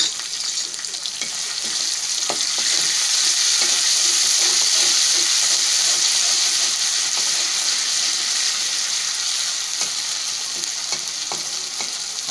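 Ginger and garlic paste sizzles in a hot pan while a frog curry is being cooked, a steady close hiss and crackle with occasional stirring scrapes and no talk.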